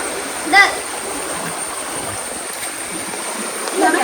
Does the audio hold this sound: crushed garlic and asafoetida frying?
no